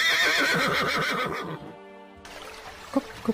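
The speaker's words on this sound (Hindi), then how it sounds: "तभी राजा का घोड़ा आवाज करता है" A horse whinnies in a forest scene of an animated Hindi folk tale, a loud, close, wavering neigh with harmonic quavers, followed by a short quiet gap and faint clip-clop taps.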